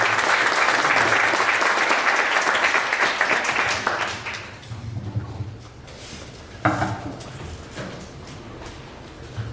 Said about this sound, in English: let's give another round of applause for Trifigo